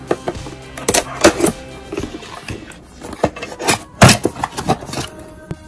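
Packaging of an Ezviz C6CN indoor dome smart IP camera being handled during unboxing, with close, loud rustles, rubs and knocks coming in irregular bursts and no talking.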